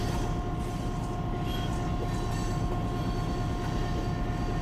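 A mile-and-a-half-long loaded coal train on the Lakeland & Black Valley railroad rolls steadily past, a dense continuous rumble of wheels and cars with a faint high tone running through it and no break.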